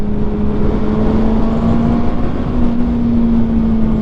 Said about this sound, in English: I can still hear the engine. I can still hear the exhaust.